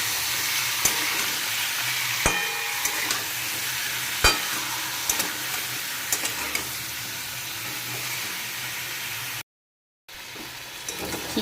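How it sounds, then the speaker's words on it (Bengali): Chicken pieces frying in oil give a steady close sizzle with scattered stirring clicks and scrapes, broken by a brief silent gap near the end before the frying resumes. "চিকেনগুলো ভেজে নিলে খেতে খুব ভালো হয়।"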